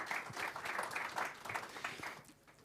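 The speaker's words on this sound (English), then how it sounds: "So a big round of applause for everyone on stage, if you could." An audience applauds the people on stage at a talk session, a soft, diffuse patter of clapping that thins and fades toward the end.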